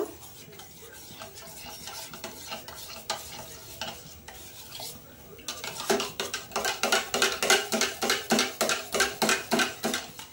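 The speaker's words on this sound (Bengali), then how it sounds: "এই দুধের মধ্যেই আমি দুধটা গুলে নেব" A spoon stirs Amul milk powder into hot milk in a mug, starting with scattered clinks and soft scraping, then settling into a quick, regular run of rhythmic clinking and swishing strokes, close and clear with no talking.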